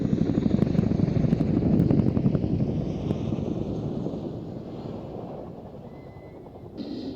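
Loud, steady rotor and engine roar of a Royal Air Force Chinook helicopter at an airshow, with a rough rumbling texture that eases slightly toward the end.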